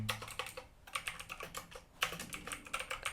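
Rapid typing on a computer keyboard while writing CSS code for a JavaScript documentation website, with dense bursts of key clicks, brief pauses between runs, close and clear, with no voices.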